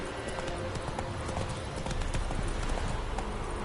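Horse hooves pounding in a steady rapid clip-clop through an open-world fantasy game, continuous and fairly loud over a dense bed of ambient game sound.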